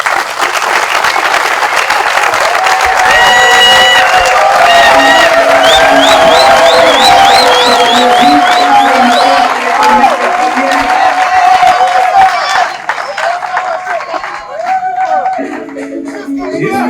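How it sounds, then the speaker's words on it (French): A dense, loud audience applause with cheering and whoops, sustained for many seconds at a Congolese gathering as a petroleum engineer is introduced, then thinning toward the end. "sous vos applaudissements"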